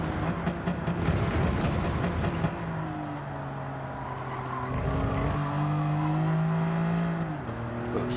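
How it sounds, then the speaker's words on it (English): A BMW Z4 in the Gran Turismo 7 racing game accelerates through a chicane, its engine note climbing and dropping with gear changes amid brief tyre squeal, loud and steady, with no talking. "You've got to get the line right so you can accelerate all the way through that last chicane"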